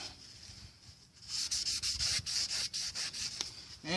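Rag rubbing Cosmoline off the face of a brake rotor on a 2011 Dodge Durango, a series of quick, rhythmic scrubbing strokes, soft and close, with no voices.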